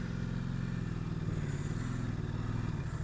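A Ducati Multistrada 950 S motorcycle throttles up on an off-road trail, its engine a steady, dense low rumble heard close and continuous.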